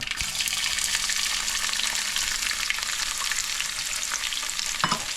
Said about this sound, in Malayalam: കടുക് പൊട്ടുന്നതിൻ്റെ ശബ്ദം ഭയങ്കര ശബ്ദമാണ്